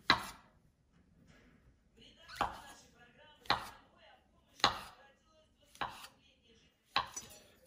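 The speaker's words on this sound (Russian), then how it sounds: "Возьмем шампиньоны и нарежем их." Button mushrooms being sliced with a knife on a cutting board in a home kitchen: six distinct, sharp knocks spaced about a second apart, close and clear with faint background between them.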